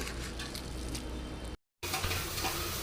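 Spinach bhajji fritters in gram flour batter going into hot oil give a steady, close sizzle of deep frying, broken by a brief silent cut before the bubbling resumes.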